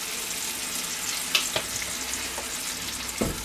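Onions fry in oil in a pot for a western-style stew, giving a steady close sizzle with a few soft stirring clicks and no talk.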